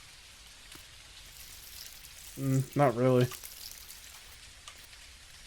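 Rain falling in the video game Dinkum, a soft continuous patter like frying or sizzling heard throughout, with a brief spoken remark in the middle.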